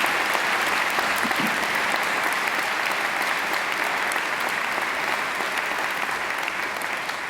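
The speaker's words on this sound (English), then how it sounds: "Let's give her another great round of applause." A graduation audience at Macquarie gives a dense, sustained round of applause, steady and loud throughout with no speech over it.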